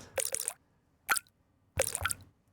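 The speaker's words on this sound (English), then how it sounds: "this says kitchen kit, and when it's got water sounds like that" Water drip sounds from a kitchen kit on an Ableton Move, with three short bursts of wet plops and drips separated by silence, close and clear.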